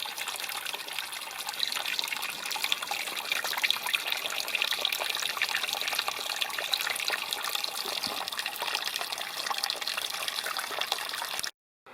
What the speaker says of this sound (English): streams of water coming down